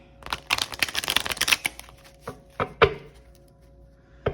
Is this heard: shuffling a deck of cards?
yes